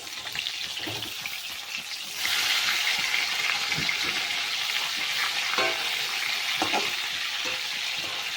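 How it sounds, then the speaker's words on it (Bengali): Rohu fish frying in mustard oil in a kadai on a gas stove after being flipped, a steady close sizzle that grows louder partway through, with brief clinks and sputters. "মাছের এক পিঠ ভাজা হয়ে গেছে এখন আমি উল্টে দেবো"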